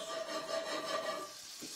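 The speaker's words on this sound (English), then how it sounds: "So you want to saute those, get some nice brown color on those flavors." Mushrooms sauté in late harvest olive oil, a quiet steady sizzle with soft rubbing and scraping from the pan.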